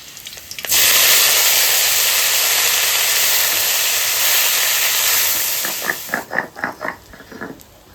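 Red amaranth greens tipped into hot oil set off a loud, sustained hiss that fades after several seconds into a few short, separate sizzling bursts, close by and with no voices.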